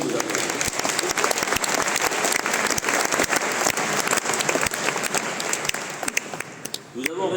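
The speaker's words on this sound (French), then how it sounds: "Vous pouvez vous applaudir." A district conference audience of Rotarians bursts into sustained applause, dense clapping from a large crowd filling the room and tapering off near the end.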